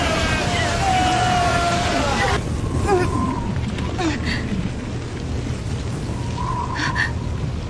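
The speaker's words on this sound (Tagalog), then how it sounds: "Humanda kayo sa malakas na pagsabog." A big explosion in the Naruto anime roars as a dense, sustained rumble with crashing debris and surf-like noise, loud and continuous, while voices sound partly over it.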